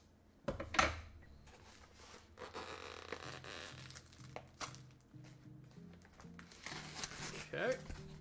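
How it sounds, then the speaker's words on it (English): Packing foam inside a Naruto statue box is cut open, with close crinkling, scraping and zip-like tearing sounds in bursts, plus a few soft thumps and a low voice murmuring underneath. "Let's go ahead and just lightly cut open this foam."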